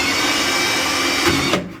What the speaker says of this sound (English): get the drill ready, get some masking tape, and start throwing some holes in this thing